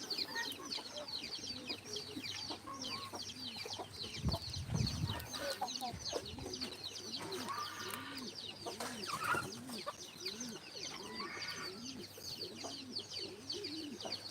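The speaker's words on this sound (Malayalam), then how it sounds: "ഇതാ കോഴികളൊക്കെ ചില്ലി പറക്കി തിന്നുന്നുണ്ട്" Backyard chickens, including Salem fowl, cluck and coo steadily while pecking at food, with other poultry calling close by and a brief low thump partway through.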